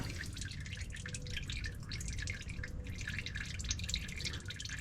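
Transmission fluid from a 2017 Toyota Tundra drains steadily into a drain pan as a continuous close dripping, trickling patter.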